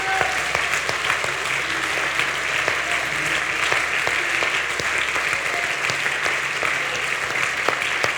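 A church congregation at a Sunday service claps for God, a steady wash of many hands that carries on for several seconds, sharp individual claps standing out above the crowd.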